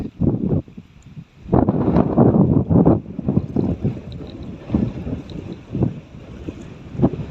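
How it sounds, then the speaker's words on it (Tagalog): Strong wind buffets the microphone in loud rumbling gusts outdoors, with intermittent bursts throughout and no voices. "kasi malakas ang hangin"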